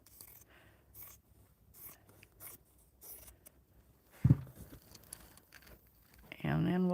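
Scissors cut through sweatshirt fabric in a few crisp, separate snips spaced about a second apart, close by and fairly quiet, with a voice speaking briefly near the end.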